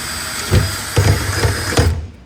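Power drill with a 1/4 inch bit boring a hole into a metal sign with vinyl overlay, a close, loud motor whine with four rhythmic bursts of grinding as the bit bites into the metal.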